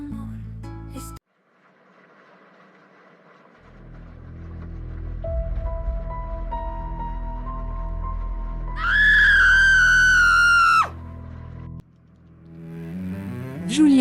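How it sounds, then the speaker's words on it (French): A woman screams in the shower, a loud, sustained high-pitched shriek lasting a couple of seconds amid hums and tones of a dramatic soundtrack. "je t'ai entendu hurler sous la douche"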